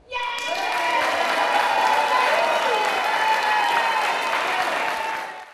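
Neighbors at a city meeting applaud the decision to remove the Mays Road chicanes: a dense, steady round of clapping that swells quickly, holds for several seconds and fades out at the end.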